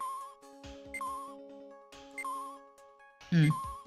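Phone in Phoenix Wright: Ace Attorney beeping in short repeated tonal electronic chirps, spaced about a second apart among other game sounds, with a brief louder blip near the end.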